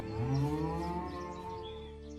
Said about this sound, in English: That's a fine cow you have there.